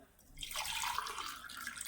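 Water pours steadily into a vessel from a measuring bowl with a bright, splashing rush that starts abruptly and continues without pause, while making wheat kurdai.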